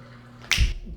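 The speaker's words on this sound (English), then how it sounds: "I snap my fingers" A single sharp finger snap rings out close to the microphone against a quiet kitchen background with a faint low hum, and no one speaks.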